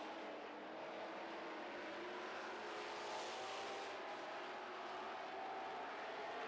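Super stock race cars roar around an oval track during a feature race. Their engines blend into a steady, distant wash of sound with no distinct passes standing out.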